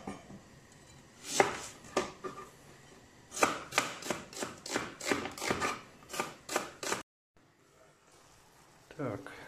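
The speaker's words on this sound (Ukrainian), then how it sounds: "Нарізаємо цибульку." Onion being chopped on a cutting board for a pan of chicken liver and hearts, crisp knife taps in quick bursts, a rapid run of about a dozen steady strokes close to the microphone, then a pause.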